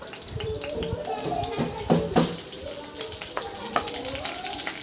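Cumin seeds hit hot oil for sabudana khichdi, giving a steady, close crackling sizzle with a few sharper pops, and a voice is faintly audible in the background.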